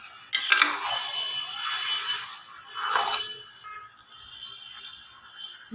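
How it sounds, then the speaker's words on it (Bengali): Pieces of cow head meat are turned through thick masala in a cooking pot. Two wet, squelching stirring bursts with utensil scrapes sound up close, with quieter sloshing in between and no speech. "এখন আমি মাথার মাংসগুলো দিয়ে দিব। ভালো করে নাড়া দিয়ে দিব।"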